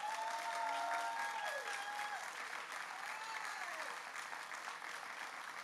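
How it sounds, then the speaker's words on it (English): An audience at a city's state-of-the-city event breaks into sustained, dense applause that fills the whole stretch, gradually easing slightly in loudness. "I want you to stand up so that you can get a round of applause as well"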